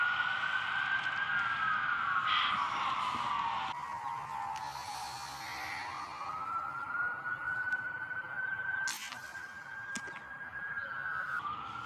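Fire engine sirens wail steadily, rising and falling as they pass at moderate distance, with a brief horn blast near the end over traffic noise.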